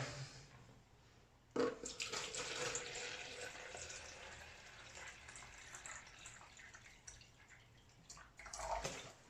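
Distilled water is poured into a container for mixing photographic fixer, heard as a faint, steady trickling splash that starts abruptly, runs for several seconds and tapers off with a few drips.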